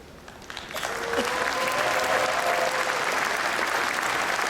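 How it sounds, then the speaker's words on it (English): Audience at an opening ceremony breaking into applause, swelling from scattered claps to steady, dense clapping that fills the hall, with a few faint voices and a brief tone underneath. "Let's applaud these bright talents"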